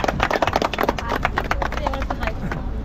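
A crowd claps in a quick, uneven burst at a biker meetup in Kolkata. The clapping is close, with dense rapid claps that thin out toward the end, and voices talk over it.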